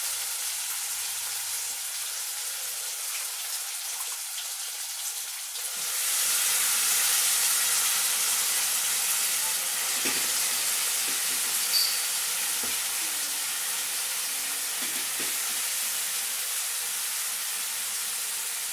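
Cabbage hits a hot pan in a Telugu cabbage curry, the sizzle jumping louder partway through and holding steady with scraping stir strokes and soft clinks, no voices.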